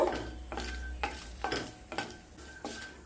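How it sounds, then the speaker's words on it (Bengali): Dried red chillies, cardamom pods, cloves and a bit of cinnamon dry-roasting in a pan for vegetarian ghugni spice mix, with repeated stirring scrapes roughly every half second and a light sizzle, close and fairly quiet. "দিয়ে নিলাম 2টো শুকনো লঙ্কা, 4টা এলাচ, 6টা লবঙ্গ, সামান্য দারচিনি দিয়ে মশলাগুলোকে প্রথমে ভেজে নেব।"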